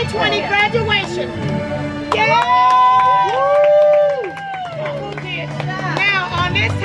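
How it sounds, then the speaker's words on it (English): A crowd cheers and shouts at a 2020 junior high school graduation, with children's voices and excited hubbub swelling around a few long calls, but little clear clapping. "Let's give a round of applause for our 2020 graduation."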